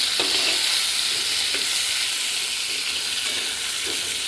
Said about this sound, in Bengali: আলু আর বেগুনটা খুব ভালো করে ভেজে নিয়েছি